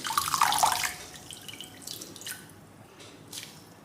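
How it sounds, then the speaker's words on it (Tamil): Soaked food is squeezed by hand, sending a brief splashy trickle of water running out, followed by a few faint drips and small wet sounds, quiet and close. "நல்லா தண்ணியை பிழிஞ்சிடணும்."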